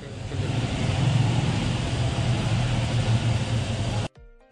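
Bajaj Avenger 220 motorcycle, freshly serviced, running steadily close by with a continuous engine drone for about four seconds before it cuts off abruptly.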